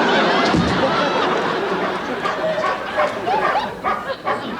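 A dog barks and yips close by in a sitcom room scene, several sharp barks with whimpers while people talk over it.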